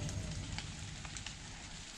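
Steady rain pattering down in a rainforest around a cave shelter, a dense continuous hiss of drops with occasional louder splashes, close and unbroken, with no voices.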